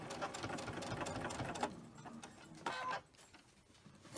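A home sewing machine stitches quilt fabric with a steady, dense mechanical whir and needle clatter, close up, then cuts off abruptly near the end, leaving lower background noise.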